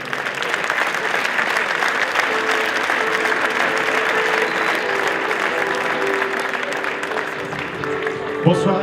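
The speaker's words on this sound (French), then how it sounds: "Je vous demande d'applaudir Johan Rossel" Loud, dense applause at a regional sports awards evening in France as a young rally driver is called up, a continuous wash of many hands clapping close by, holding steady for several seconds with a brief bump near the end.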